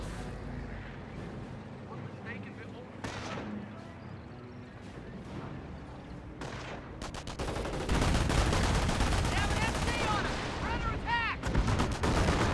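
In a Company of Heroes battle, sharp sniper shots crack and an MG42 machine gun rattles in rapid bursts that grow dense toward the end, with someone speaking throughout.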